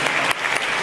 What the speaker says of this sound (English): Let's give everybody a warm round of applause